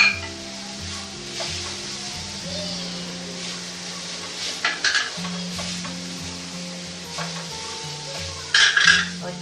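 Grated radish fries and is stirred with spices in a pan, a steady sizzle running under repeated scraping strokes of a spoon, with a few louder clatters near the end and background music.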